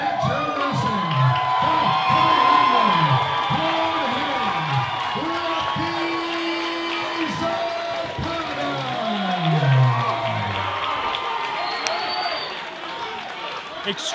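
Crowd at a boxing match cheering and shouting for a favored fighter, a loud, dense roar of many voices with whoops and yells rising and falling throughout, with individual shouts standing out near the front.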